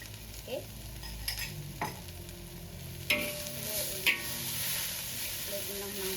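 Dried prawns stir-fried with singkamas (jicama) in a pan, with a soft, continuous sizzle broken by several sharp scrapes and clinks of a utensil stirring, fairly quiet overall.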